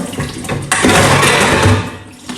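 Tap water runs steadily into a sink while dishes are scrubbed with soap on a cold day, a close splashing wash with brief clinks, louder after the first moment.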